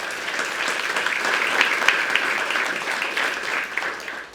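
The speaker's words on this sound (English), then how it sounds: "Give them a round of applause." A room of attendees at a coach's introductory press conference gives guests a round of applause, steady crowd clapping swelling slightly in the middle and then tapering off, with no voice over it.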